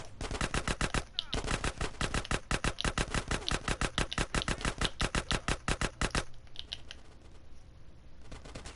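Rapid bursts of SMG gunfire in GTA San Andreas, a dense run of sharp, evenly spaced shots lasting about six seconds, then trailing into quieter game ambience.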